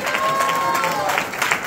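Congregation in a church applauds during a Spanish-language sermon, a dense wash of clapping mixed with crowd voices and cheers, steady and loud throughout.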